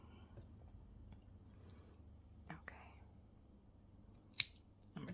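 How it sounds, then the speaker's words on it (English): Scissors snip through a single knitting stitch, a faint, close crisp cut near the end amid soft handling rustles and quiet whispered speech. "We're just going to snip the one stitch."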